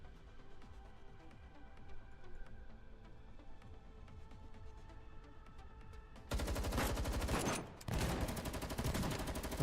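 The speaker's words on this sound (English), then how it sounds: "Are those gunshots" Rapid bursts of gunfire in the video game Girls' Frontline 2 erupt loudly after a stretch of quieter ambient sound and scattered distant shots, continuing with a brief pause.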